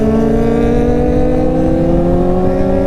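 Kawasaki ZX25R motorcycle on a road, its engine holding a loud, steady high-revving whine with rising harmonics, close up and without talk.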